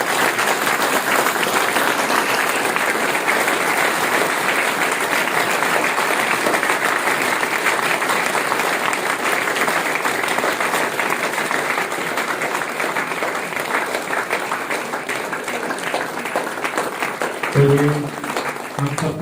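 A standing audience at a birthday celebration claps loudly and continuously, a thick sustained wall of applause that dips only briefly near the end.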